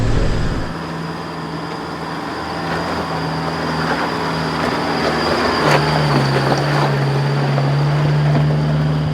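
A 4x4 drives through a flooded mountain track at a steady throttle, its engine holding an even, continuous drone beneath the wash and rush of water.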